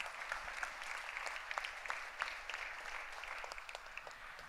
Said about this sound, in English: Please put your hands together because they definitely deserve a huge round of applause